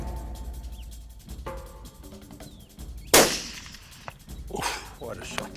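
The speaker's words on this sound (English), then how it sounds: "That was a great shot." Hunting rifle shot fired from shooting sticks in open Karoo country, one sharp, loud crack about midway, then a second burst of noise and rustling as the shooter reacts, heard over faint outdoor background.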